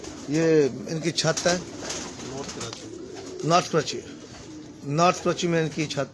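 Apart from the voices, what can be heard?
pigeons cooing on a rooftop in North Karachi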